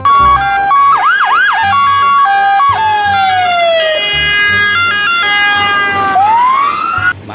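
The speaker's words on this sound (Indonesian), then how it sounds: "Mobil ambulan." Up close, a toy ambulance siren plays loud electronic tones. Quick warbling yelps come first, then steady two-tone notes and falling and rising sweeps, all continuous with no speech.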